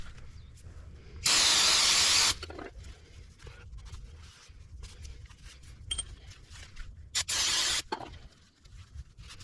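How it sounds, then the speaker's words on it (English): Brake parts cleaner sprayed onto the front brakes of a Camaro during a pad replacement, two loud hissing aerosol bursts, the first about a second long and the second shorter, with quiet handling noises in between. "The brake parts cleaner."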